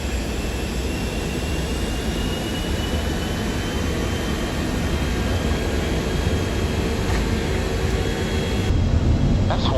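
Heavy aircraft engines roar steadily through the takeoff roll, a loud, dense and continuous rumble heard from inside, rising slightly near the end.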